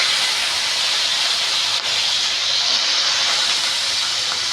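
Chopped ivy gourd dropped into hot tempering oil, a loud dense hissing sizzle that runs steadily and close throughout, with no voices.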